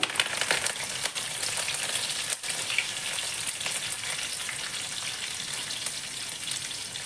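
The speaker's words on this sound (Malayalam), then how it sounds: "കടുക് പൊട്ടിയിട്ടുണ്ട് അതിലേക്ക് കുറച്ച് ജീരകം ഒരു പത്തിരുപത് കഷ്ണം വെളുത്തുള്ളി ഒരു പിടി കറിവേപ്പില" Mustard seeds, cumin, garlic cloves and a handful of curry leaves fry in hot oil for an eggplant thokku, giving a dense, continuous close-up sizzle with faint crackles throughout and no voices.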